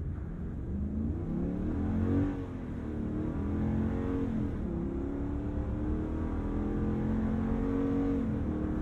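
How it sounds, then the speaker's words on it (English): A 2022 Ram 2500 Power Wagon pickup accelerates at full throttle from a traffic light, its engine droning steadily and rising in pitch through the gears, heard from inside the cab with no talking. "I'm just going to lay on the throttle when the light goes green."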